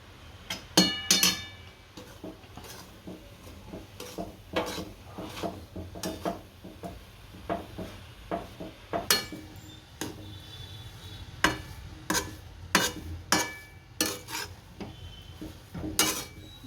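Mava and cardamom powder being stirred into a cooking coconut sugar mixture for kopra pak: repeated scraping, clinking strokes of a spoon against a pot in an uneven rhythm, close and fairly clear.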